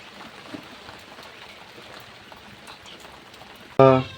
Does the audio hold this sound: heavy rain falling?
yes